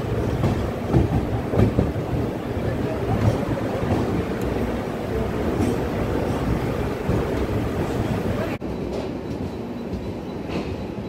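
The Bhuj Bandra Special Express pulls into Borivali station, heard from on board as a continuous loud rumble and rattle of carriages with faint clattering over the tracks.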